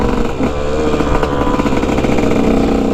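A KTM EXC 125 two-stroke dirt bike engine revs hard and steadily during a wheelie, loud and close, with a buzzing, rasping drone that holds high throughout and nobody talking.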